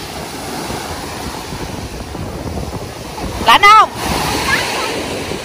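Ocean waves and surf wash steadily onto a beach in Miami, Florida, with wind buffeting the microphone throughout and a brief burst of excited voices near the end.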